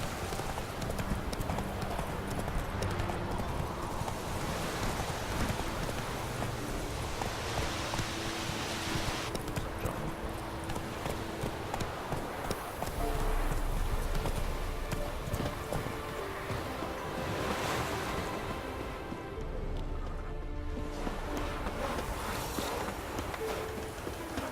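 Hooves clip-clop steadily as the horse Roach gallops in The Witcher 3, a continuous rhythmic beat over a dense game soundscape with water, waves and music.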